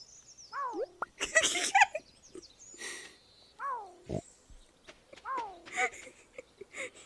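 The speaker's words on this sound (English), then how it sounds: "Find the weird ostrich noise." Several odd, warbling honks and squawks with rising-falling pitch from an ostrich in the video game Stardew Valley, interspersed with clicks, thumps and bursts of noise.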